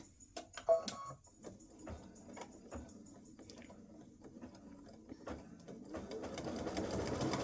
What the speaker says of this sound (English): we're going to let it stitch the next to the last color stop